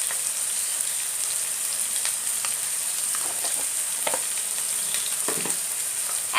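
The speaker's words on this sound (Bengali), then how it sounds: "এখন মশলাটা ভালোভাবে কষিয়ে নেব।" Dry chilli powder and coriander powder sizzling steadily in a hot pan for village-style egg potol dorma, a continuous close frying hiss with occasional louder crackles and stirring scrapes.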